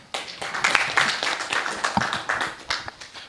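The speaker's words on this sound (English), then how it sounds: "Another round of applause" A small group at a regional community dialogue breaks into applause, uneven close hand claps that rise quickly, patter on for a few seconds and then thin out.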